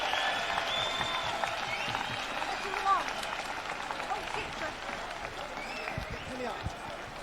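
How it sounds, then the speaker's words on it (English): Rally crowd applauding with a steady wash of clapping and cheering at a distance, a voice talking over it. "Let's give her a round of applause again, everyone."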